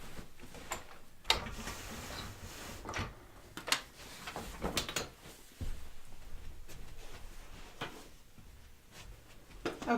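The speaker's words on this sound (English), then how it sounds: "I'm gonna have to roll my quilt again." Mechanical clicks and ratcheting knocks as a quilt is rolled on a wooden-style quilting frame, a series of irregular, moderately close taps and creaks scattered over about ten seconds with no talking.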